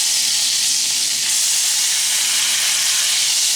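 Steak fat searing on a stove gives a loud, steady, close hiss and sizzle with no pauses and no voices.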